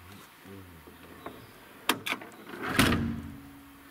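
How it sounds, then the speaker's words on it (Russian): Doors being closed at night in a taiga camp or forest cabin, heard as a few sharp knocks and a louder thud with a scraping creak, set against quiet background noise. "закрываем двери."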